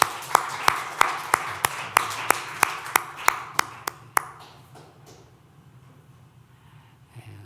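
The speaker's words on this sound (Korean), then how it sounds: "박수 좀 주세요" A church congregation claps in a steady, fairly slow rhythm of about a dozen sharp claps over four seconds, then stops, leaving a quiet room tail with faint background murmur.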